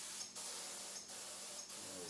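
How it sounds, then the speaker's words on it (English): Paint sprayer spraying onto the back of a mirror while refinishing an antique dresser: a steady loud hissing spray interrupted by three short, evenly spaced breaks. "I'm gonna spray on the back of this mirror at first just to clean up my tip"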